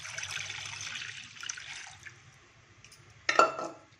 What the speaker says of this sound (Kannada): ಇದೇ ಕಪ್ಪಲ್ಲಿ 2 ಕಪ್ ನೀರು ಹಾಕ್ಕೊಳ್ತಾ ಇದ್ದೀನಿ ಇದರೊಳಗಡೆ.